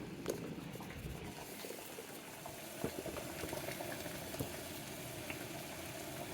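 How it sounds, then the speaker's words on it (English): Pot of water at a rolling boil for poaching chicken, spiced with Sichuan peppercorns and star anise, gives a steady bubbling hiss with small pops throughout, close and moderately quiet, with no talking. "So my water is boiling."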